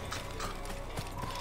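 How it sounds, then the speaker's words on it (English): Horse hooves clip-clop in the Assassin's Creed video game, a quick run of light, evenly spaced hoofbeats over steady game ambience and mechanical clatter. "Horsey!"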